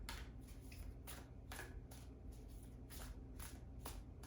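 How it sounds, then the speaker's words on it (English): Tarot cards are shuffled by hand in quick repeated riffles, with about eight crisp papery bursts in an even rhythm, close and fairly soft, with no voices. "this is the last of the cards to shuffle and disperse"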